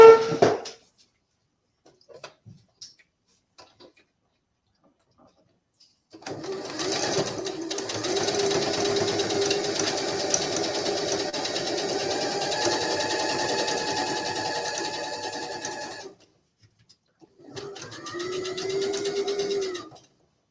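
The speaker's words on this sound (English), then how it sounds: "My sewing machine is not really fond of" A sewing machine stitches doll pieces in a long steady whirring run of about ten seconds, then a shorter burst after a pause, close and fairly loud with no talking.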